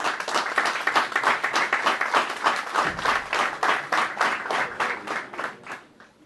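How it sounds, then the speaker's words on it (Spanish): A smaller crowd at a Tucumán penitentiary service ceremony claps with distinct, rhythmic individual claps that swell and then taper off near the end. "pido un fuerte aplauso primero para ellos"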